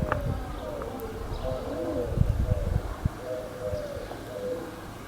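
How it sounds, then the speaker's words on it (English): Pigeons coo in repeated soft phrases while other birds sing around them in a quiet, traffic-free village, with faint rustles and a few clops in the background. "No traffic, just birds singing and pigeons cooing."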